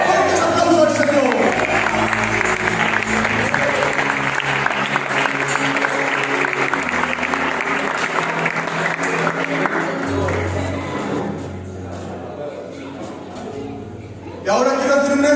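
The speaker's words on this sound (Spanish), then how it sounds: "Fuertes aplausos al Señor" Congregation applauding in a church service, a dense sustained wash of clapping with crowd noise and music underneath for most of the span, fading out near the end before another burst of sound returns.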